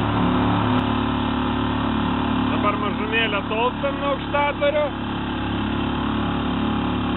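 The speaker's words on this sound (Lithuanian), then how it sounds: "Labai jau mūsų greitaeigė valtis." A speedboat's outboard engine drones steadily at close range while cruising around a lake near Aukštadvaris, with someone talking over the motor.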